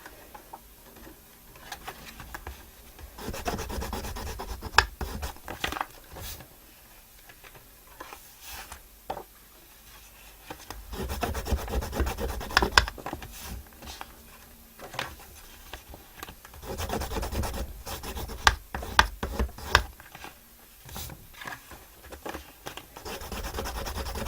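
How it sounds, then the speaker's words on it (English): Paper on a wedding guest album folio being scored and burnished: irregular close scratching and rubbing strokes with small ticks, coming in bursts with short pauses between them, with no talking. "as I'm really scoring it down, burnishing it, wow, it's laying a lot flatter"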